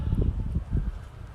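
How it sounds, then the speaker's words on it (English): Gusty wind buffets the microphone outdoors at a construction site near houses being built, a low rumbling roar that swells and fades in close, steady bursts with no talking. "Excuse the wind noise, it's still quite windy here."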